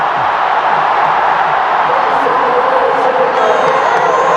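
A vast stadium crowd of cricket supporters, over a hundred thousand strong, roars and cheers continuously at the India versus New Zealand final. The din is loud and unbroken, with whoops rising from the mass of voices.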